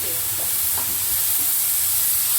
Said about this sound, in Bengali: মশলার পেস্টটা দিয়ে একটু ভালো করে নেড়ে নেব।